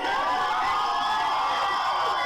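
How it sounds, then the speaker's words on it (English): A live audience at a comedy show cheers and claps loudly in a brief, sustained burst of crowd noise with raised voices and no distinct speech. "That's good applause."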